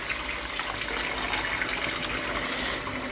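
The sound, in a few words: water being poured into a cooking pot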